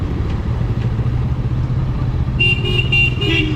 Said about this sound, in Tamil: ஆட்டோவில் எல்லாத்துலேயும் போகிறதுனால ரொம்ப டிராஃபிக் ஆகுதுங்க.